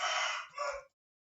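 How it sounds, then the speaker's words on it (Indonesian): Rooster crowing once, a loud, fairly close call that holds, dips briefly, then rises again before stopping abruptly, leaving silence. "suara saya saingan dengan ayam"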